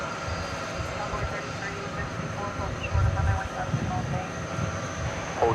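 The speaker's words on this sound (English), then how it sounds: "The A300 is turning right in front of us." An Airbus A300 airliner taxis and turns at DFW Airport, its engines giving a steady, loud jet rumble and whine close by, with a slight swell near the middle.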